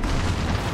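A grenade explodes in a competitive shooter video game, giving a brief, loud, low booming blast that fills the whole moment.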